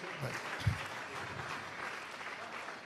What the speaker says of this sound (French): Acclamons très fort pour celui qui...